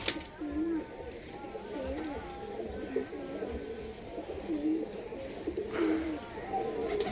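Pigeons coo repeatedly in soft, rolling calls nearby as a pigeon pairs with a Giribaz pigeon, with a voice talking faintly in the background.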